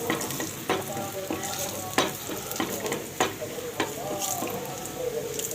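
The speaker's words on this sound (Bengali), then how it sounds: "একদম লাল করে রসুনগুলোকে ভেজে নিতে হবে।" Garlic cloves fry in hot oil until red for a beef and taro-leaf dish, a steady close sizzle punctuated by regular scraping stirs of a spatula against the pan.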